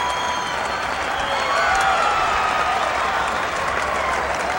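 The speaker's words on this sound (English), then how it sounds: "here's the applause for the 8th grader, Troy Bazakis." An audience at the 1986 New York State high school wrestling finals applauds steadily for an 8th-grade 91-pound champion, a broad, even wash of clapping from a large arena crowd with an announcer's voice faintly over it.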